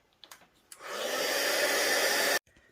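A heat tool drying watercolor on a card, starting after a few soft clicks and taps and then blowing as a steady, loud, close whoosh for about a second and a half before cutting off abruptly.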